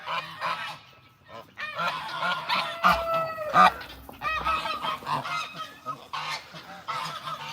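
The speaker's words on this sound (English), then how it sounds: "This is my 12-year-old turkey hen right there." A twelve-year-old turkey hen at an animal sanctuary gives repeated honking, goose-like calls close by, in uneven bursts with short gaps between them.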